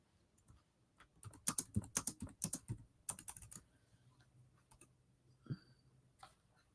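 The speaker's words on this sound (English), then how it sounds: "I'm going to type in go." A short burst of typing on a computer keyboard, quick soft key clicks clustered over a couple of seconds, then a few scattered taps in an otherwise quiet room.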